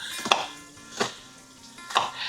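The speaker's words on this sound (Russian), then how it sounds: "Сейчас мы порежем лук." Three slow knife strokes chop through an onion on a board, spaced about a second apart, against a faint background hiss.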